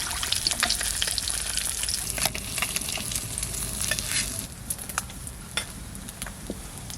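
Snakehead and koi fish frying in hot oil in a pan, giving a continuous close sizzle with crackling spits and pops that ease slightly toward the end.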